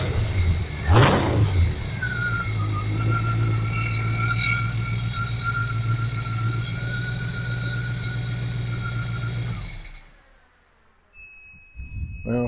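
A 1929 Ford Model A truck engine runs steadily and loud, with a rev rising and falling early on, then drops away near the end before a brief return, close to the microphone.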